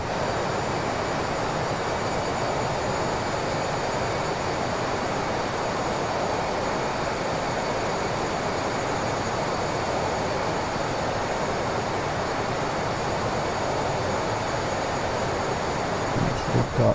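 Douglas DC-8 jet engines in the Aerosoft flight simulator game, a loud continuous roar and whine that holds steady from start to finish, with no voices.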